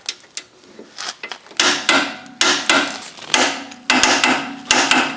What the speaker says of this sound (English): we will torque these 2 bolts